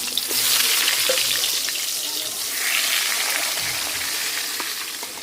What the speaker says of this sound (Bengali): মিষ্টি কুমড়া ভাজাও হয়ে গেছে,